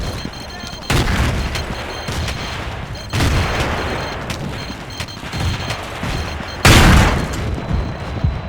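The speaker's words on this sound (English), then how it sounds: "Grenade! Frag grenade!" Several loud booms of frag grenade blasts in Battlefield 2 combat, mixed with gunfire and sharp bursts across a dense battle din, with the heaviest blast near the end.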